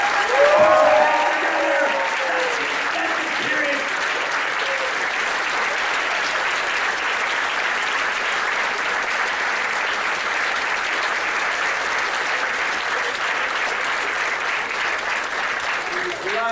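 Sustained applause from a theatre audience at a winter festival performance, a dense, even roar of clapping that holds steady throughout, with a few voices briefly audible at the start.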